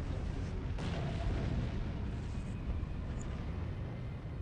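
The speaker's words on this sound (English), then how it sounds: "They definitely have toned down the explosions from the previous Halo games." A Halo 4 video game explosion gives a steady, muffled booming roar with rumbling low end, fairly quiet and sustained over a few seconds, with no speech over it.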